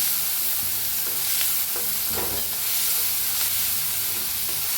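Chilli paste and seeds roasting in a hot pan for a drumstick (shevga) dish, a steady close sizzle with scraping stirs and light clinks throughout, no talk.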